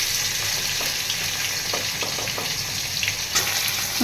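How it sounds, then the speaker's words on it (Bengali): An egg fries in a pan with a steady, close sizzle and crackle, and a few faint scraping taps rise above it. "এই দেখো ডিমটা ভাজা হচ্ছে"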